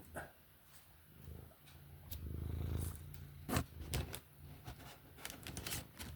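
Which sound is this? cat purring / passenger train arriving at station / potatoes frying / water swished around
cat purring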